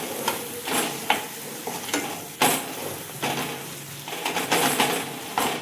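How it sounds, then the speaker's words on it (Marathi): Coriander powder, red chili powder and salt being sautéed in a pan while a spoon stirs and scrapes, giving a steady close sizzle broken by repeated scraping strokes. "धन्याची पावडर, लाल तिखट, मीठ हे परतून घ्यायचं आहे"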